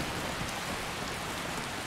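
Rain in Skyrim Special Edition, a steady close hiss of drops pattering on the ground with no let-up, heard alone without voices.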